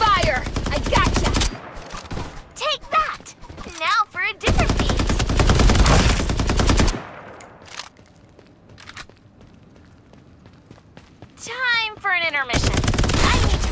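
Heavy gunfire in the battle royale shooter Farlight 84, played on an RX 460 graphics card: long, loud automatic bursts alternate with shorter shots and quieter gaps where in-game voice calls and effects come through.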